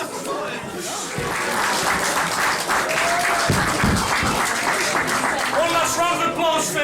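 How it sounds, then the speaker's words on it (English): A live show crowd breaks into sustained applause, with clapping mixed with cheering, chuckles and loud voices throughout. "Round of applause for Danny DeVito."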